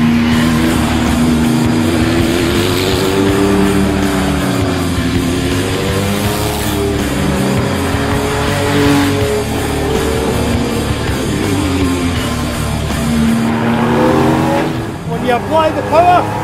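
A Porsche 993 GT2 race car engine roars loudly and close, its pitch rising and falling through sustained acceleration, with a sharp rev flare near the end and no clear talk over it.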